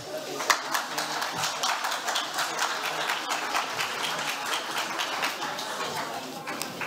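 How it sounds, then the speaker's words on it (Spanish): Audience applause welcoming panelists at a forum on social and environmental crisis in informal settlements, steady clapping throughout with some voices mixed in beneath it. "Vamos a recibirlos con un fuerte aplauso"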